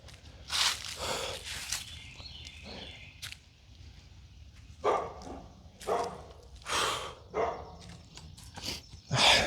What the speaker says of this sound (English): Can y'all hear the dog barking?